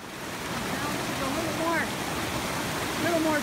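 Brush Creek, swollen with spring runoff, rushes in a steady broadband roar close by, with a few faint birdlike chirps over the flowing water.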